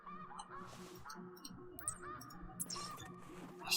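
Ducks call in the hunting video game theHunter: Classic, a scattered run of honking, quacking calls from somewhere ahead, faint and mid-distance, with no talking over them.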